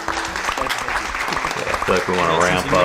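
An audience applauds a short film directed by Isaac Smith, with steady clapping throughout and a voice talking over it, more clearly toward the end.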